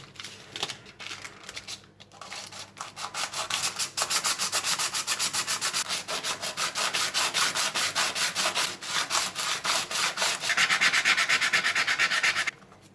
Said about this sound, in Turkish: kalın bir zımparayla zımparalayacağım ben şu anda bunu